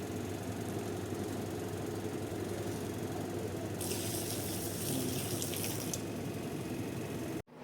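Water running steadily from a tap during washing up, a continuous close hiss with a brighter splashing stretch midway before it cuts off abruptly at the end.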